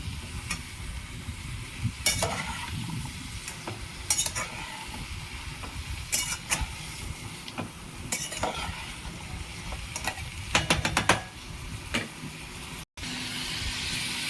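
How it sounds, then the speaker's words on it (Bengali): A spoon scrapes and clinks in a pan as grated garlic is stirred into sizzling oil, the strokes coming in repeated bursts over a soft steady fry. "সামান্য একটু রসুন গ্রেট করা, এবার আমি নেড়ে নেবো"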